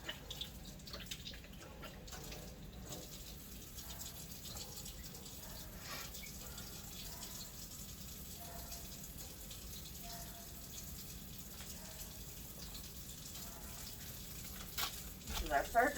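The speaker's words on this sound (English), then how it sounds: "I'll have to keep the water running" Tap water runs steadily from a sink faucet during a surgical hand scrub, a constant low wash of flow held at even level throughout, with faint handling clatter and a brief louder splash near the end.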